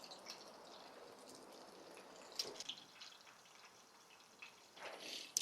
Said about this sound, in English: Just going for a shallow pan fry.